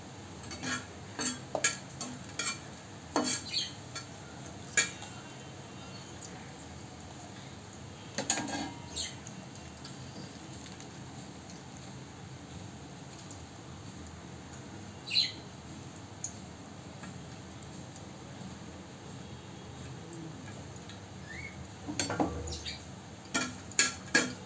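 Seven or eight dried chilies fry in mustard oil in a pan while a utensil stirs them, giving faint sizzling with scattered clicks and scrapes of metal against the pan, quiet and close.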